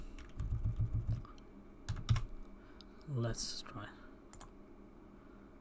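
Close keystrokes clatter on a computer keyboard in short irregular bursts, quick taps followed by pauses, while someone briefly speaks between the typing.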